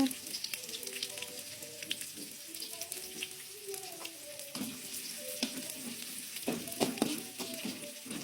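Chopped chili fries in a pan over low heat, sizzling and crackling steadily up close, with scattered clinks and scrapes from stirring.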